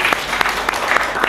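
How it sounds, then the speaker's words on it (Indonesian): Students applauding in a classroom, a short burst of close, loud clapping with several sharper accents. "tepuk tangan"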